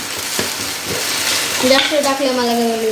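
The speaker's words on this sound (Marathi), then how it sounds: "थांब आता थोडी मी हलवते मग तू हलव" Fenugreek leaves frying in a pan are stirred with a spoon, a close steady sizzle with scraping strokes, and a voice talks briefly partway through.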